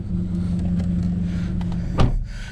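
Volkswagen MK7 GTI with an upgraded GTX3071R turbo driving on the road, with steady engine drone from inside the cabin and a brief louder swell near the end.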